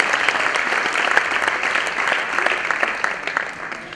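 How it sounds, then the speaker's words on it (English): Audience at a school annual function applauding steadily, a dense, continuous wash of many hands clapping that holds at an even level throughout. "Can we have a round of applause for them?"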